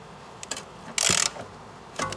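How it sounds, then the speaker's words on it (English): Ratcheting wrench working the 18 mm top nut on a VW Tiguan front strut during spring and shock absorber removal: a few short clicks, then a loud burst of rapid ratchet clatter, then more clicks, close up with no talk. "try and undo the 18 nut now"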